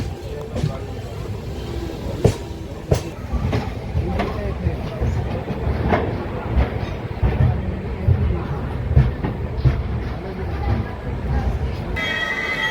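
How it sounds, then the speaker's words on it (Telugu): Satavahana Superfast Express train rolling slowly on the outer approach to Kazipet, a steady rumbling onboard drone with scattered clicks and knocks from the rails, continuous throughout, with people talking faintly in the background. "సో మనము కాజీపేట అవుటర్లో అయితే ఉన్నామండి ఇప్పుడు సో దానివల్ల ట్రైన్ మెల్లగా వెళ్తుంది"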